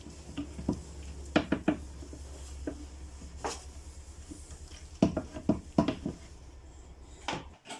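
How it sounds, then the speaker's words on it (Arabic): Freshly washed plates and utensils clink and clatter intermittently against each other and a dish rack, with scattered sharp knocks over a low background hum. "غسلت شويه المواعين وسبتهم كده يتصفوا"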